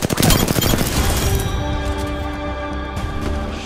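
A short, heavy burst of gunfire in the Apex Legends video game, layered shots at the start that fade into a ringing tail, loud and close.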